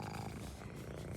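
Close, steady purring of a pet cat found hanging around while an owner works on a smashed 2000 Chevy/Geo Prizm, continuous low rumble throughout a brief moment with no talk.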